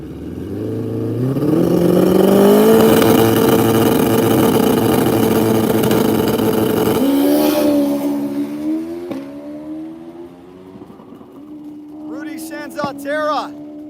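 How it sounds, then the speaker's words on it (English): Harley-Davidson drag bikes at Rockingham Dragway, a loud engine note climbing and holding as a bike revs and pulls away, then fading into a lower drone, with crowd noise and a voice near the end. "we got some Harleys coming up too"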